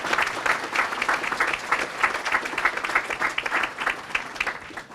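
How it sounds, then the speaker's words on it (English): An audience at a chamber of commerce awards evening gives nominees a warm round of applause, a dense burst of clapping that swells and then begins to fade near the end. "Big round of applause for all of our nominees this evening."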